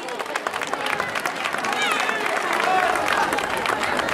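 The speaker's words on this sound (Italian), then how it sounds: "applauso per i Minions" At an outdoor town carnival, a crowd claps for the Minions float, number six. The applause is loose and mixed with crowd babble and scattered voices, and it grows a little louder toward the end.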